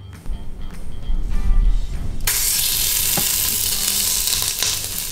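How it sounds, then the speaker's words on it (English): Oxtails laid into hot oil for browning in a Chinese stew erupt into a loud, steady sizzle after a few soft clunks and handling sounds, the frying hiss staying close and constant to the end. "we're going to slowly take each of the oxtails and then put them in one by one, just brown them on all sides"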